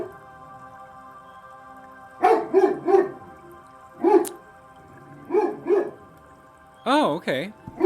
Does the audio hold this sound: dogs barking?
yes